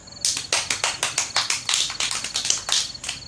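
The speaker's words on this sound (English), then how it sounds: "Clap for me." A small audience claps at the close of a children's story, a quick run of sharp, evenly paced claps lasting a few seconds with no talking.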